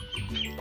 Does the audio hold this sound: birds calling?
yes